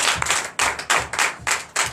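Worshippers at a Sunday church service in Benin clap in acclaim, a series of loud, close bursts of hand claps arriving in uneven rhythmic clusters with brief gaps between them.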